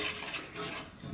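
A utensil scrapes leftover bread dough from the inside of a mixing bowl, giving brief, quiet scuffing and scraping strokes close by with no talking.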